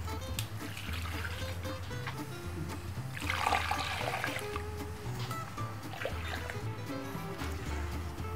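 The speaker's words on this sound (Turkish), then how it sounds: "Kalan kısmını ise birazcık süzeceğim." Thick homemade grape molasses (pekmez) being strained, a steady liquid trickling and pouring with a louder watery surge midway, over low background hum.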